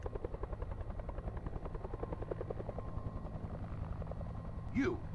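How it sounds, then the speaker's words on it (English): A helicopter flies nearby with a steady, rhythmic rotor chop at moderate level throughout, joined near the end by a brief rising electronic chirp. "Sounds like a chopper."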